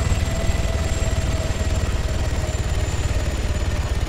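A helicopter in a shooter video game gives off a loud, steady rotor and engine drone with a rapid low chop and a faint high whine, running without a break and with no talk over it.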